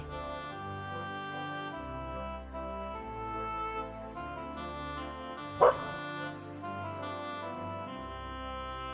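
A small dog barks and yips once, sharp and close, over a continuous background of sustained musical tones that play throughout.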